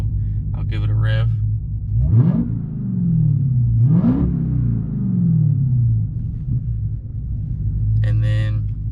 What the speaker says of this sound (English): So I'll give it a rev.